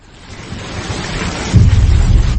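Rain pours through a dramatic fight scene from Squid Game, a broad steady hiss that swells over a couple of seconds, with deep rumbling weight joining in as the storm builds.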